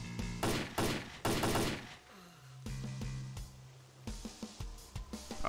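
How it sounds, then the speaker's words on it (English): Rapid bursts of AK rifle fire in the S.T.A.L.K.E.R. Clear Sky shooter, loud and close, in two dense volleys followed by a few scattered single shots against a low background hum. "Should probably switch to my AK so I get a better shot on him."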